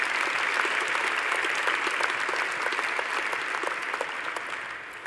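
A large audience applauds medical graduates at an Imperial College Faculty of Medicine graduation ceremony in 2022, a dense, steady wash of clapping that holds for the whole stretch and eases slightly toward the end.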